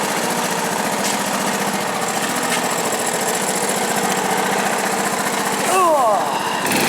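A 1970s Honda ATC three-wheeler engine runs steadily and close with a rough, knocking idle, and a brief grinding of gears rises near the end.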